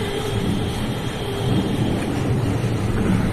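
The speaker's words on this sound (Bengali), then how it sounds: "প্রচুর বৃষ্টি হচ্ছে বন্ধুরা" Heavy rain in Medinipur pours in a dense, loud, unbroken roar, with a low rumble of thunder swelling slightly toward the end and no voices.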